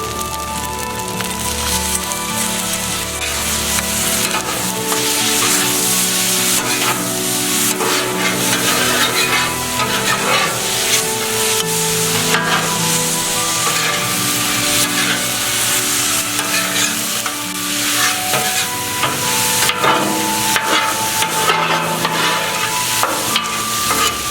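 Yakisoba noodles fry in a pan with sauce while being stirred, giving a continuous sizzle with scraping and clattering stirring strokes throughout, close and loud.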